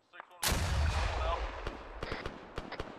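A single sharp, booming blast from a rocket launcher in Arma 3, loud and close, followed by a decaying rumble and a few fainter cracks of distant gunfire.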